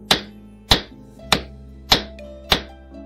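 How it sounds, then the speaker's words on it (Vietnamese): Five heavy thuds land at an even pace, each a sharp, close knock that decays quickly. They stand for a large wooden pepper pestle being struck hard against a dog's head, a sound effect heard alone with no talk. "nó vớ tay lấy cái chày đâm tiêu to đùng trên sóng chén đập mạnh vào đầu con chó"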